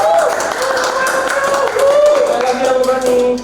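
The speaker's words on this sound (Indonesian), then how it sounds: "Kita tepuk tangan dulu ya guys" Audience clapping under loud voices and cheering, the applause a dense patter beneath the crowd's vocal noise.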